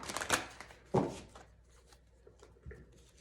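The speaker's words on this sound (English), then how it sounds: "I'm going to go ahead and get the other cards shuffled up real quick" Tarot cards are shuffled in a few quick riffling bursts close by, with short quiet pauses between them.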